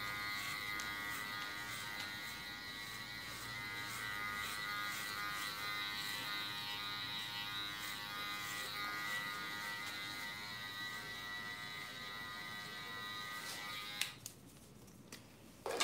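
Electric hair clipper buzzing steadily during a tapered cut on gray natural hair, a continuous close, even drone that cuts off near the end, leaving a few faint handling clicks.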